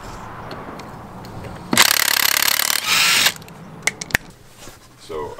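A loud pneumatic impact wrench hammers off the wheel lug nuts of a 1993 Jeep Wrangler during a lift install, two close bursts of about a second each followed by a few sharp clanks.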